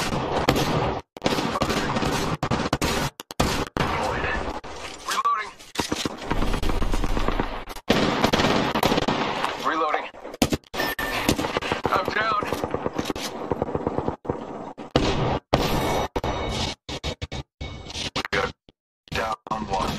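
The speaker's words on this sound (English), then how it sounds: "Shots fired, and they're hitting me" Rapid bursts of video game gunfire crackle through the whole stretch, dense volleys broken by short gaps, loud and close, with occasional speech mixed in.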